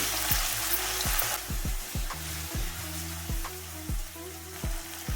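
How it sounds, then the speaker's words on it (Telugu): Ginger garlic paste fries in hot oil for a fish curry made with mud-grown fish, giving a steady close sizzle broken by rhythmic scraping stirs, with no talking. "అల్లం వెల్లుల్లి పేస్ట్ పచ్చివాసన పోయే వరకు వేపేసుకోవాలి"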